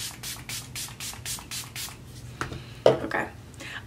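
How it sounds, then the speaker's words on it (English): A Milani Make It Last setting spray is pumped in a rapid series of short, bright spritzes during a makeup routine, each burst distinct and close, followed by softer handling and rustling at the end. "I'm going to set my makeup with this Milani Make It Last spray."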